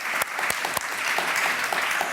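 Applause for a speaker at an urban planning talk, a brief burst of close, sharp claps with a few distinct hand strikes standing out over the crowd.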